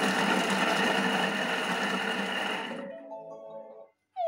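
A food processor chopping ingredients whirs loudly at speed setting 5 for a few seconds, then its motor winds down and stops.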